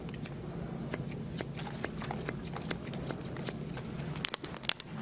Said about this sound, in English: I'm going to take my shear and just go in and point cut that